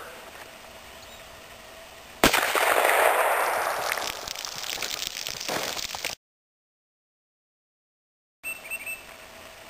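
A single loud, close .44 Magnum shot firing a 405 grain bullet into walnut, a sudden sharp blast followed by a long rushing decay that breaks off into silence.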